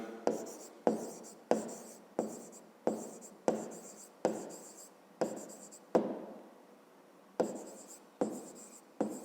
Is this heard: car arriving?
no